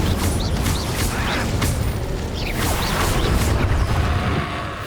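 A fire spell cast in Hogwarts Legacy on the Switch, heard as a string of bright whooshing bursts and rumbling impacts over a dense, steady game soundscape with no talk.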